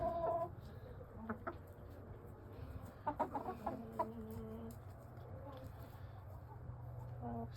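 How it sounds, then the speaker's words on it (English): Hens cluck in short, soft popping bursts over a steady low hum, with a few louder squawks in the middle. "you hear the hens and they're just kind of like pop, pop, pop"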